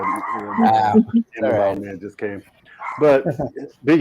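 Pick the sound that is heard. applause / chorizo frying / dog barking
dog barking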